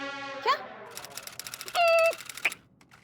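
In a comedic classroom scene, a voice imitates a typewriter with a rapid string of clacking, rattling clicks broken by two high bell-like dings, in a small room with faint background murmur.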